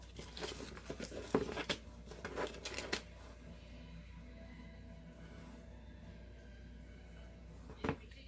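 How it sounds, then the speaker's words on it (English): Tape peels off a hot sublimated passport cover or luggage tag in a few close, faint crinkly rips over the first few seconds, then quiet handling and one more brief rustle. "So I'm just gonna flip this one over, take the tape off."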